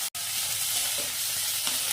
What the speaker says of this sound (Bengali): সবজিটা একটু ভাজা ভাজা হয়ে এসছে